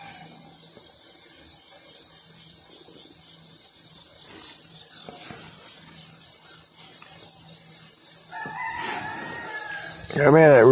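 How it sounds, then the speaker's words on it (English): A rooster crows loudly and close by at a sunrise outdoors, its call bursting in near the end over a bed of steady insect-like buzzing and faint distant bird sounds. "Yeah, man, that rooster's loud."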